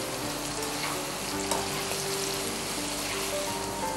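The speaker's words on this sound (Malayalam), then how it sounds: "അപ്പോൾ നമ്മുടെ സവാള ഇങ്ങനെ ഗോൾഡൻ ബ്രൗൺ കളറായിട്ട് മൂത്തുകൊണ്ടിരിക്കുന്നു." Onions frying golden brown with a pinch of salt in a pan, a dense continuous sizzle up close with faint bubbling and no talk.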